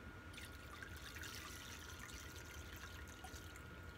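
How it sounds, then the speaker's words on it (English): Lye water for soap making is poured through a sieve, a steady soft trickle and splash running continuously at low level without talk. "I'm going to actually sift my lye water because it looks like it might have something"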